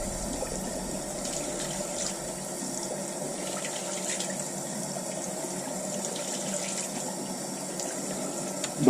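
Hot water runs steadily from a household tap, a constant broadband rushing hiss that holds near and even for the whole stretch with no voices.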